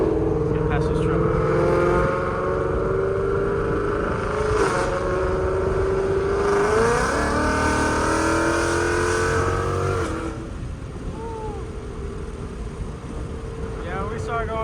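A straight-piped 5.0 car engine revs hard on a late-night drive, the exhaust note rising and falling through several loud pulls and shifts, steady and close throughout.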